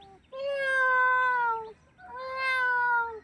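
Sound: person imitating a cat meowing

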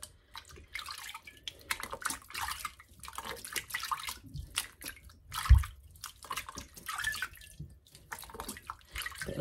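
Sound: cold water running from a tap

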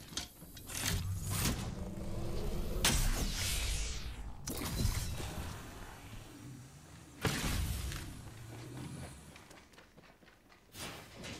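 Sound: care package opening in the video game Apex Legends

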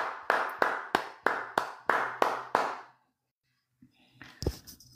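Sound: applause

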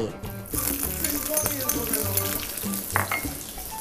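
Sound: onion stir-frying in hot oil in a pan

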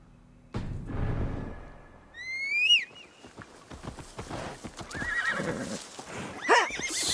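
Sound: horse neighing and hooves in Assassin's Creed Valhalla video game

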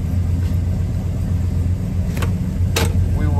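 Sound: 1970 Oldsmobile Cutlass Convertible engine running

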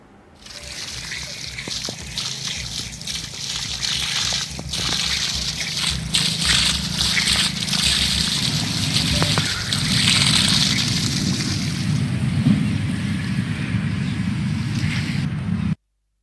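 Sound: water from tankers poured onto drying crops

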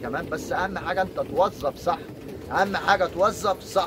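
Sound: pigeons cooing

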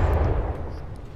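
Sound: advanced cannon firing rapidly in From The Depths video game

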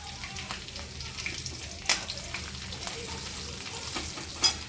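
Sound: red chilli, coriander powder and turmeric frying in pan

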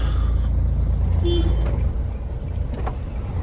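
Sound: truck horn honking

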